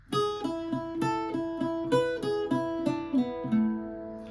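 Irish bouzouki playing the first phrase of the B section of the jig "Old Hag You Have Killed Me": a run of bright plucked notes in a steady lilting rhythm, clear and close, the last note left ringing.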